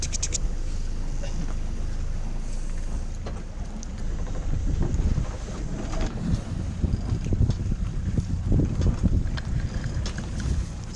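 Steady wind rushes past a sailing boat on a cruise off Menorca, a broad continuous roar with water and hull noise beneath, loud and close throughout with no one speaking.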